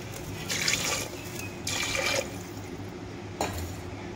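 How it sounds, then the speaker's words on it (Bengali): Three bowls of water poured into rajma in a kitchen pot, three separate splashing gushes of about half a second each, the last one shorter, over a soft background hum. "এখানে 3 বাটির মতো জল দিব।"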